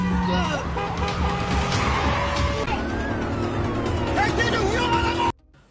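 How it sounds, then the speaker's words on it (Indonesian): Police car chase with a wailing siren, rising and falling tones over engine noise and a brief skid, loud and close before cutting off abruptly near the end; voices are heard in the scene. "Lalu Taeju dan juga polisi main kejar-kejaran mobil."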